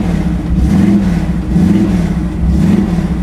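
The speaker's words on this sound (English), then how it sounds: "Gotta rev it up a little bit, let it idle." An SC/Rambler car engine is revved up close, rising and falling in a few steady surges between low idle, loud and alone with no talk.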